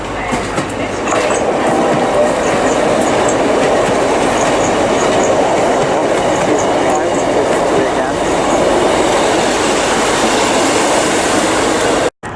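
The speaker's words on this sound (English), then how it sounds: "now arriving here is class 150" A Class 150 diesel train arrives at Bristol Temple Meads station, a loud, continuous rolling rumble with rhythmic clatter from the wheels that carries steadily throughout and stops abruptly at the end.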